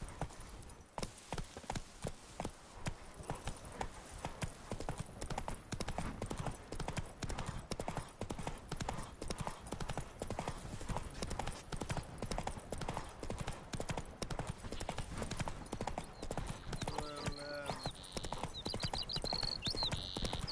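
Roach, the horse in The Witcher 3, trots along with a steady, close clip-clop of hooves running throughout, joined near the end by a brief whinny-like tone.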